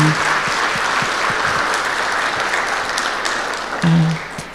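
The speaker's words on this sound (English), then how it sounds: "Another round of applause for those ladies." Sustained audience applause fills the room at an annual gala, a steady dense wash of many hands clapping that swells briefly near the end.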